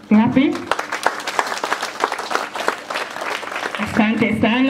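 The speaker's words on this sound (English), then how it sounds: "Let us appreciate him with clapping." An audience at a school graduation ceremony applauds a guest, a dense burst of clapping under a speaker's voice that opens and closes the stretch.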